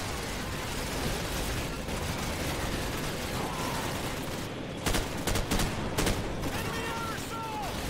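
Supporting gunfire in Call of Duty 4: Modern Warfare, a busy battlefield din of rattling rifle bursts and mechanical clatter with a few sharper cracks near the end, steady and loud under faint voices.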